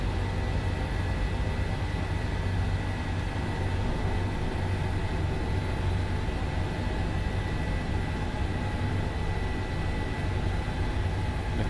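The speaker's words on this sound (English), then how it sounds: "Oh, watch out for the Chinook." A Chinook helicopter in Microsoft Flight Simulator, a steady loud droning rotor and engine roar that holds constant throughout with no break or speech.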